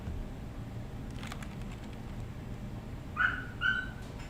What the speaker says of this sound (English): And my dog is barking at me.